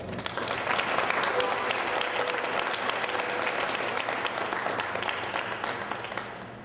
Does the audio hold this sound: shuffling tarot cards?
no